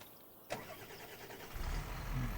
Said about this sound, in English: Move the tractor back over here.